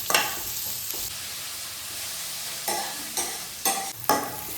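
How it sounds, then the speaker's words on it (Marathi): Sliced onion sautés with mustard seeds and cumin in a pan for chicken sukka, a constant soft sizzle broken by a few louder scrapes and clatters of stirring, with no talking. "तर कांदा मस्तपैकी परतून घेऊया."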